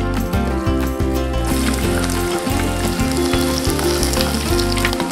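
Chopped small shallots hiss and sizzle loudly in hot oil in a pan, a dense continuous crackle with rhythmic low knocks as they are stirred, no talk heard.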